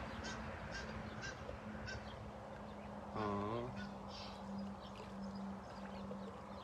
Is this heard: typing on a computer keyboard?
no